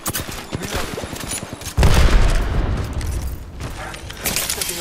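A grenade explodes in a shooter video game, a sudden loud boom that cuts through a rapid patter of gunfire, then leaves a rumbling tail with more scattered shots behind it.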